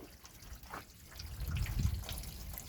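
Rainwater trickling and splashing inside a gutter downspout over a wheelchair ramp, a soft, close watery patter that swells slightly toward the end, with no talk.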